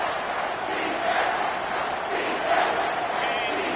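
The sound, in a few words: stadium crowd roaring on third down at football game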